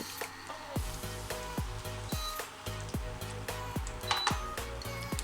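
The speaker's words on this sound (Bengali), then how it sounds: "এবার ভেজে নিচ্ছি মশলাগুলো থেকে সুন্দর একটা ফ্লেভার বের হওয়া পর্যন্ত" Cloves, cinnamon pieces and a bay leaf sizzling in hot oil, a steady close fry crackle punctuated by repeated sharp taps of a utensil against the pan.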